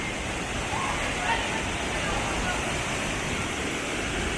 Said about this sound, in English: You get one waterfall blast over there